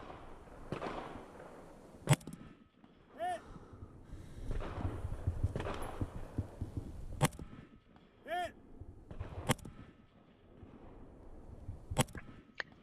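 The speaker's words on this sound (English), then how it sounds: "Nice accurate shooting at 200 there." Single rifle shots from a Radom Beryl at a shooting competition crack out sharply every few seconds, loud and close, with rustling movement and breathing between them.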